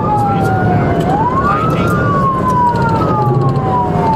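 Police car siren wailing during a high-speed pursuit, a loud close rising-and-falling tone sweeping up and down over road and engine roar.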